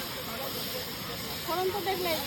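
Spices are tempered in hot oil for a goat meat curry at an outdoor picnic, giving a steady close sizzling hiss, and a voice speaks faintly over it near the end.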